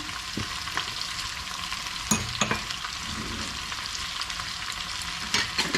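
Green beans with spices are stirred and fried in a pan, with a steady close sizzle and occasional spatula scrapes and knocks against the pan, loud and continuous with no talk.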